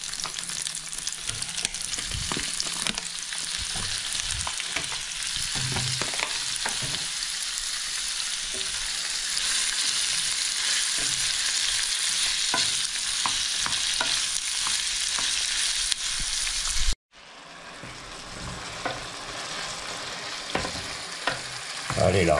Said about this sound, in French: Je fais revenir mon échalote. Et là, je rajoute mes lardons.